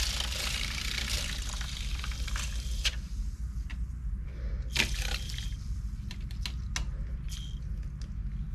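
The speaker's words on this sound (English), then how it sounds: "A little bit of water to our mixture." Water poured into a paint colour mixture being stirred, soft wet splashing and squishy scraping with small clicks, quiet and close, no talk.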